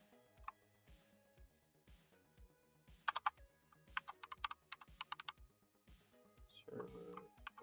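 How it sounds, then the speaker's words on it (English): Clicking keystrokes on a computer keyboard, close and fairly quiet, in uneven bursts with short pauses between words. "So if I go ahead and type in servers."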